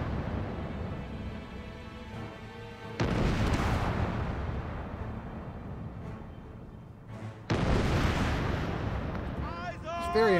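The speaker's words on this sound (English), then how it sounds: "Flak firing!" Two sudden heavy booming bursts of flak cannon fire in Company of Heroes 3, each followed by a long rumbling roar, over continuous game noise and talk.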